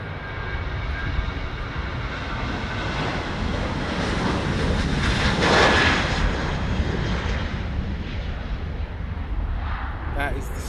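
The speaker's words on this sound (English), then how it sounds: "And we have KLM, Boeing 737," A KLM Boeing 737 jet on the Amsterdam–Stockholm route roars past at Schiphol, its broad engine rumble swelling to a peak midway and then slowly easing off, loud and steady throughout.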